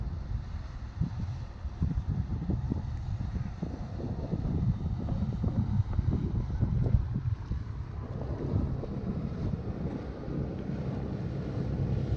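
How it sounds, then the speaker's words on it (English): A steady low engine rumble of pleasure boats passing on open water off the island of Koufonisi, mixed with continuous wind buffeting the microphone and lapping waves. "this is what you've got to watch out for. Pleasure boats coming past"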